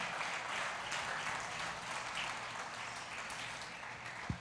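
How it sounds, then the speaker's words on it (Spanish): A church congregation claps together in praise to God, a steady, fairly distant wash of applause that fades slightly toward the end, with a single sharp knock just before it stops. "vamos, dale un aplauso a Dios, vamos."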